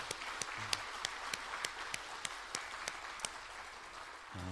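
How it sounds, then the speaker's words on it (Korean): Congregation applauding in a church during a special spring dawn revival service, a steady wash of clapping with a few sharper individual claps standing out, moderately distant and without talk. "우리 하나님께 우리 감사의 박수 함께 같이 올려드립시다."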